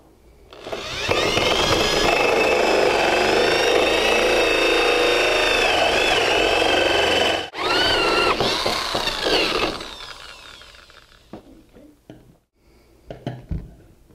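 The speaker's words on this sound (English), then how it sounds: "we're going to use a simple drill and a 2-inch hole saw" A power drill with a 2-inch hole saw whines loudly and steadily for about nine seconds as it cuts, pauses briefly, then winds down, followed by faint clatter.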